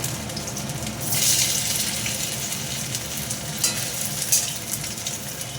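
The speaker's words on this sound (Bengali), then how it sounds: "পনিরগুলো আমি এখন ভেজে নেব।" Continuous hissing sizzle of soft paneer frying in a hot pan, close and fairly loud, with a few brief spatters and bursts standing out.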